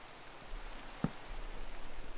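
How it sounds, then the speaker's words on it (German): Rain falling in the Minecraft video game, a faint, steady hiss of noisy patter lasting a couple of seconds, with one brief louder tap near the middle and no talking. "Oh, es regnet."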